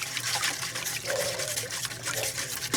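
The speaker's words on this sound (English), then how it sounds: "I'm going to get in here and whisk this." Sugar is whisked into a wet bread pudding mixture in a bowl, a close, continuous sloshing and liquid churning with steady rhythmic swishes and no talk over it.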